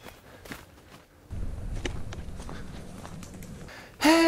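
Footsteps crunch steadily through woodland ground cover, close and moderately loud, growing denser after a quieter start, with a sharp louder sound breaking in at the very end.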